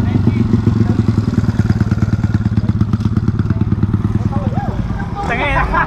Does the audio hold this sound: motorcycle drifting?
yes